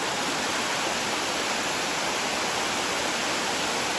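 Panasa waterfalls near Madanapalli pour with a steady, dense roar of rushing water, close and loud, unbroken throughout with no voices.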